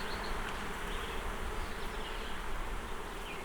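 Bees buzzing steadily around an open hive during a weekly inspection, a dense continuous drone close by and fairly loud, with no speech.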